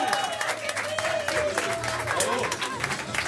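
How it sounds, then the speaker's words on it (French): Audience applause at a small café concert venue, a steady wash of clapping filling the room for several seconds, with a voice calling out faintly over the claps. "Je vous demande de l'applaudir."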